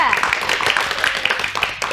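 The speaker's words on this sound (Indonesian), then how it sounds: "beri tepuk tangan untuk kelompok 2" Classroom applause for a student group during a mathematics microteaching session, with dense, fast clapping from many hands filling the room steadily throughout, and faint voices mixed underneath.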